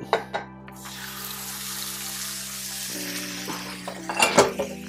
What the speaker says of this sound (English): You heard that sizzle as soon as it hits the pan.